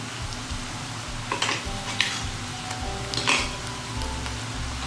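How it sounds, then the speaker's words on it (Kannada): Ginger garlic paste sizzles and fries with browned onions in a pan, a steady close crackle broken by a few clinks and scrapes of a spoon stirring, with no talk. "ಒಂದೇ 1 ನಿಮಿಷ ಇದ್ರ ಹಸಿ ವಾಸನೆ ಹೋಗೋ ತನಕ ಇದರಲ್ಲೇ ಫ್ರೈ ಮಾಡಿ"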